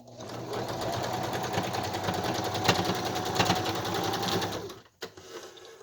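A sewing machine runs in a steady, rapid stitching burst, stitching up the sides of a pleated glass-making mask, then stops abruptly with a brief clack just after.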